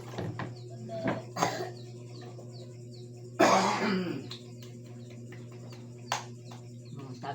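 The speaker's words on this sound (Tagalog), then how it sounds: "Kaya yung mga ubo." A person coughs and clears their throat a few times during a meal, with faint bird chirps and a steady low hum in a quiet room.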